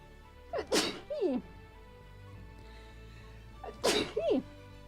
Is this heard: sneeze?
yes